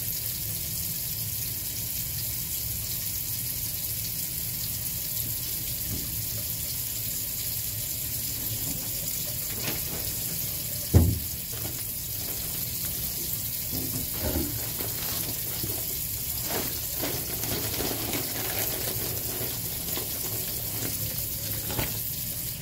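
Tap water runs steadily into a sink while a face is washed, a constant close hiss with occasional splashes and one sharp knock partway through; no speech.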